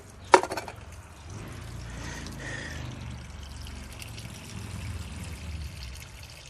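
Fluid drains from a car on a Copart burn-damaged vehicle project: a sharp knock opens a steady, moderate pour and trickle that runs continuously to the end.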